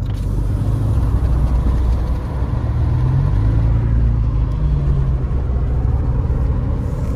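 Steady low rumble of a car driving along a road near Big Bear, with constant engine and road noise from inside the cabin and no speech.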